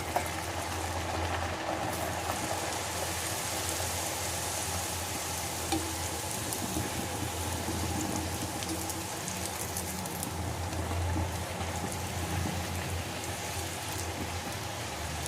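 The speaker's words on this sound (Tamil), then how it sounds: "இப்போது ஆயில் நல்லா சுட்டாச்சு. இப்போ நம்ம இந்த பட்டூராவை போட்டு பொரிச்சு எடுத்துடலாம்." Bhatura dough deep-frying in hot oil, a dense continuous bubbling hiss with a low rumble underneath, steady and close throughout with no talk.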